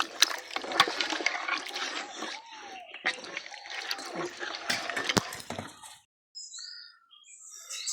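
Water poured into a pot of mutton stock for mutton biryani, a splashing, gurgling pour running steadily for about six seconds with sharp clinks, then stopping, followed by faint bird chirps outdoors.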